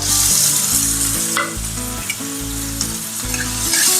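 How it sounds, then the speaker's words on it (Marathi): Chopped onion with cumin, garlic and chili frying in about three spoons of oil in a wok, a loud steady sizzle over background music with no talk. "तर भाजून घेऊया आपण आता."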